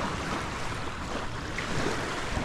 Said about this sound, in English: Wow, there's actually waves though.